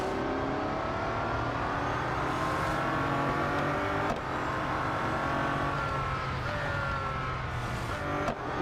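Bugatti Centodieci engine roaring steadily through a race in Real Racing 3, with harmonic tones rising and falling as it shifts and accelerates, loud and continuous throughout.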